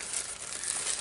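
Plastic bags crinkle continuously in a brief, close burst of dry rustling while a packed box is unpacked, with no voices over it.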